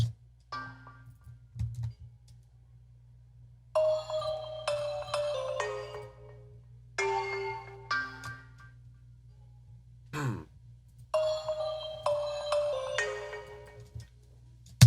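Tuned bottle-like tones play a melodic pattern in short phrases separated by pauses, over a steady low hum in a trap beat.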